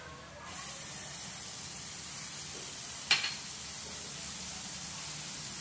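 Spice masala sizzles briefly in a pan for Katla fish curry, a soft continuous hiss with one sharp clatter of a utensil midway.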